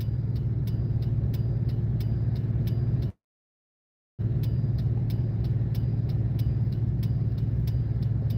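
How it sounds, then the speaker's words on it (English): A tow truck's engine idles while the truck waits in a scrap-yard line, giving a steady low rumble with a faint ticking on top. The sound breaks off in a brief gap of silence and then carries on unchanged. "The idling today has just been extreme."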